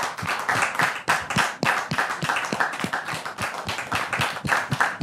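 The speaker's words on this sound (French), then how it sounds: "Je voudrais tout de suite que nous recevons ici et maintenant le couple Kouassi sous vos" A studio audience on a French-language talk show claps in a dense, irregular burst of sharp hand claps, loud and close, continuing steadily with no talk over it.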